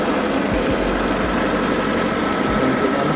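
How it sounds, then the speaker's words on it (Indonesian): Engine of a 2015 Mitsubishi T120SS pickup starts and settles into a steady idle, a constant close, loud mechanical drone with low thumping pulses and no talk. "Dan coba kita hidupkan untuk mesinnya ini. Nah, seperti ini pada saat kita hidupkan."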